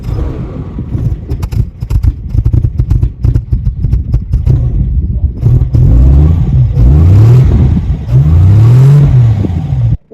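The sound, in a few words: vintage car engine running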